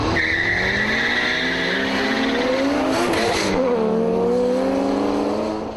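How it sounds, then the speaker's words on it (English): A turbocharged Toyota Supra races a Bluebird, engines revving hard with rising, sweeping pitch as the cars accelerate through gears, a brief burst of tire noise midway, loud and close throughout. "the Supra winds up and hunts down the Bluebird, giving Brian his first defeat"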